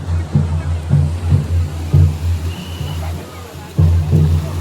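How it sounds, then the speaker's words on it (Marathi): Rising high-tide sea waves surge and wash on the shore at Kunkeshwar at dawn, a low rumbling roar that swells in repeated pulses about once a second, loud and close with wind noise. "भरतीचं पाणी बघा आता किती वरती येईल."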